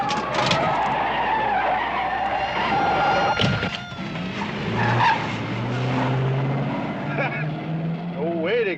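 A car skids with squealing tires during a 1970s film police chase, a loud continuous roar of engine and screeching rubber mixed with crashes and shouting voices.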